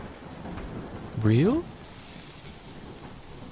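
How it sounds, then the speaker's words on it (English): Steady rain with low thunder rumble from the short horror game Chicken Killer, a continuous wash of downpour throughout, with one voice briefly speaking over it midway. "Now we got the rain coming down."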